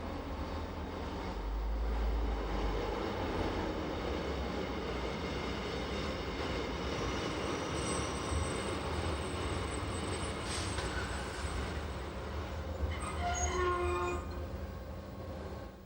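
A Rhaetian Railway train runs along the Davos line near Klosters, giving a steady low rumble of wheels and carriage throughout, with faint high squeals appearing near the end and no talk.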